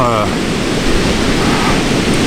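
Pacific Ocean waves at a Gold Coast beach in Australia, a loud continuous roar of surf with wind buffeting the microphone, close and steady throughout.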